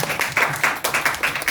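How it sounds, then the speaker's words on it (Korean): A church congregation at a Sunday worship service claps in short, rhythmic bursts, several quick waves of applause filling the room. "우리 하나님께 영광의 박수 올려드릴까요?"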